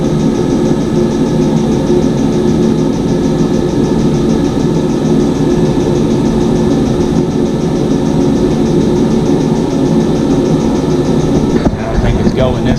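Military tent diesel heater running steadily and winding up, a continuous low rumbling roar with a dense mechanical hum throughout, close and loud, with a brief disturbance near the end.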